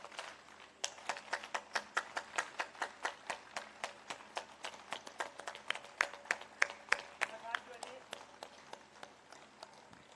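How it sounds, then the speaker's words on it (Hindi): Group clapping at an outdoor yoga programme in a township, many hands striking in a steady, fast rhythm for about ten seconds, fairly loud and sustained with a little crowd murmur underneath. "तालियां लीजिए। बजती रहें और आवाज वहां तक पहुंचनी चाहिए।"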